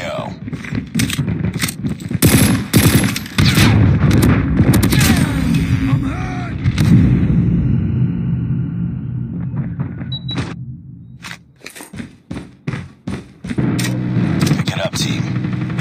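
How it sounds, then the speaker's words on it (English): Rapid automatic gunfire from a sentry gun in Call of Duty Mobile, a long loud sustained burst that breaks into several sharp separate shots, with game effects around it. "Sentry gun in your AO."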